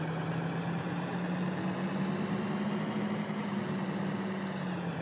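A tractor engine in Farming Simulator 2013 runs at a steady idle-like drone, a continuous low hum with a fixed pitch that holds evenly, close and moderately loud, with no voices.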